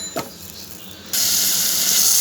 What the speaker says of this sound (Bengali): তেলের ভিতরে এটা কষানো হচ্ছে।